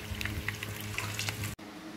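Boiled eggs fry in hot oil for rendang telur, giving a dense, continuous sizzle with faint stirring clinks that breaks off abruptly near the end.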